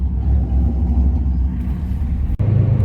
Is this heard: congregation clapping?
no